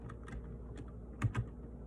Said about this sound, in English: If I could type, there we go.